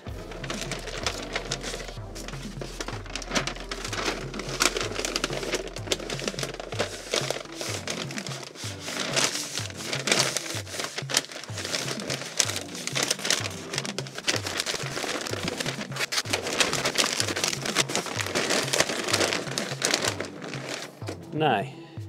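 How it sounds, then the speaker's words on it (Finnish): Butcher paper rustles and crinkles as smoked beef ribs are wrapped, a busy run of crackling and scraping that lasts throughout, with a low rumble early on. "Sitten kääritään se tähän paperiin."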